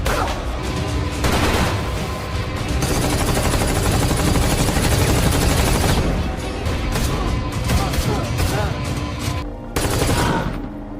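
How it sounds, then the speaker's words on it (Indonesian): A film gunfight erupts in dense bursts of rapid automatic gunfire and scattered shots, loud and continuous with brief pauses, layered over a dramatic score. "Miller berkhianat dan terjadilah baku tembak di antara mereka."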